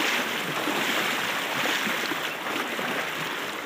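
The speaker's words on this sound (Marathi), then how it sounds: "कसलं पाणी आलं स्पीडनं बरं का." Fast river water rushing across a ford on a path from farm fields, a loud, continuous broad roar of flowing water close by, with no talk.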